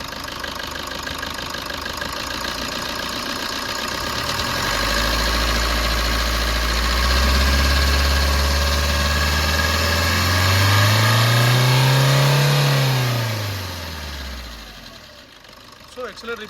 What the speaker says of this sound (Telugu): ఇంజన్ సౌండ్ అయితే ఈ విధంగా ఉన్నది.